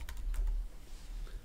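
Brief soft typing on a computer keyboard, a few light key taps close by in a quiet room, with no voices.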